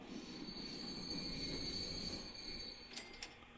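A train pulls into a station in the video game Transport Fever, with a continuous metallic wheel squeal and rolling rumble at a moderate, steady level. A couple of brief sharper screeches come near the end.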